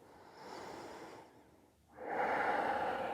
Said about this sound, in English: Take a conscious breath here.